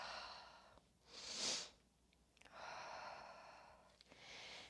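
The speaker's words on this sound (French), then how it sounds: "On retrouve une respiration calme et régulière." Slow, calm breathing during a yoga session, with long airy inhales and exhales in a steady rhythm, quiet and close, with no talk.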